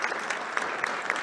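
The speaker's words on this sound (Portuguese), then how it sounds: "Uma salva de palmas para Joaquim." Steady applause from a lecture audience welcoming a speaker, dense continuous clapping with no voices, fairly loud throughout.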